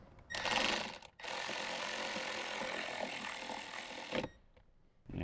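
Screws being driven and tightened while installing Alpine speakers in a Toyota Tacoma, a steady close mechanical whirring lasting several seconds, with brief pauses at the start and end.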